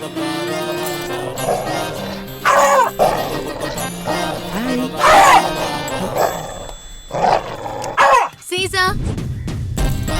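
A dog barks in several short bursts amid people talking nearby, with a whimpering yip toward the end.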